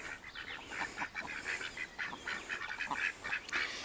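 Several farm ducks quack repeatedly in a busy, overlapping chorus, close by and fairly loud, with no talking.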